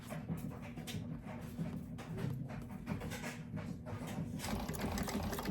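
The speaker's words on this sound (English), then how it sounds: "I am going to back stitch it onto my bag" A sewing machine back stitching a pocket onto a bag: a steady, close mechanical whir with rapid stitching pulses, its speed surging and easing throughout.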